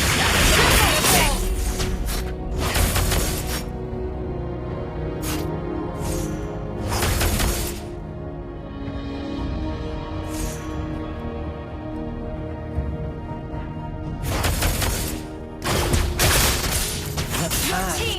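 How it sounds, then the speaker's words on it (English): Mobile Legends 5v5 MOBA match with layered game effects: repeated crashing, smashing impacts and whooshes as turrets are destroyed, dense and loud throughout with brief announcer-style voice lines over the action. "You destroyed a turret."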